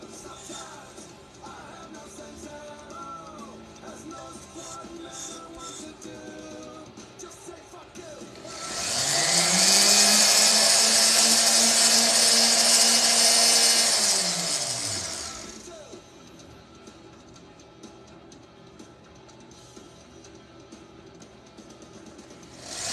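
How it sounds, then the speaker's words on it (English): A rotary burr grinds excess metal from a silver pendant in one sustained, fairly loud whirring burst of about seven seconds. It spins up, holds steady, then winds down, with quieter background before and after. "We'll just have to let the burr take out the extra."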